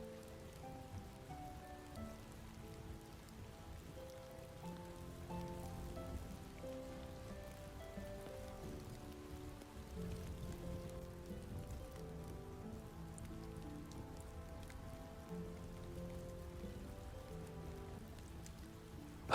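Steady rain falling on a surface, a soft continuous patter that stays even and quiet throughout, with a low mellow musical drone blended underneath.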